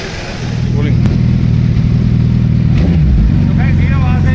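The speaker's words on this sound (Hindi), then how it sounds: "तो गाइस ये आवाज़ है एक कस्टम एससी प्रोजेक्ट की।" Suzuki Hayabusa motorcycle fitted with a custom SC exhaust, engine running loud and close with a steady deep idle rumble, brief revs blipping in partway through.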